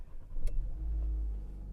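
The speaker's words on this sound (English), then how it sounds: "I need to turn on the car because it decides to." A 2024 Renault Captur petrol engine cranks and catches with a short sharp burst, then settles into a steady, fairly loud low idle rumble close by.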